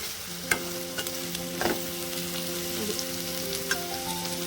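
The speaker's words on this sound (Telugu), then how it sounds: "ఒక 2 నిమిషాలు ఇట్లనే మనం సిమ్లోనే పెట్టి ఫ్రై చేసేసి వేరే బౌల్లోకి ట్రాన్స్ఫర్ చేస్తున్నామండి" Ivy gourd (dondakaya) pieces frying in a pan on a low flame, an even soft sizzle with occasional spatula scrapes and taps, while a faint steady tonal hum runs in the background.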